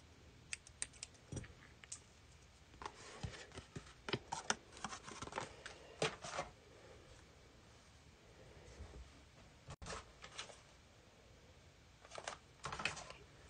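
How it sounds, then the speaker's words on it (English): Scissors snip through fleece batting while a T-shirt pillow cover is made, giving sharp, close clicks in scattered bursts over about thirteen seconds, with quiet gaps between the groups of cuts. "And cut it by my scissors."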